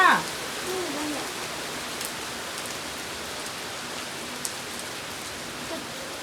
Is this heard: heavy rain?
yes